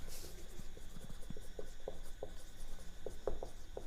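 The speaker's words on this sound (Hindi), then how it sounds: "तो चलिए इसको हम लोग लिखते हैं।" Chalk or marker writing on a board during a chemistry lesson, with soft scratchy strokes and small taps repeating at an uneven rhythm, close and quiet.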